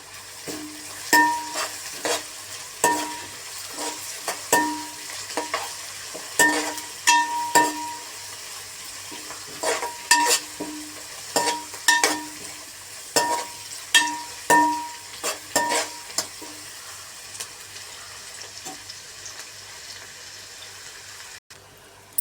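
Fried onions being stirred in a pan for a fish curry, with a spatula knocking and scraping against the pan in a steady run of clacks that stops near the end, over a soft background sizzle.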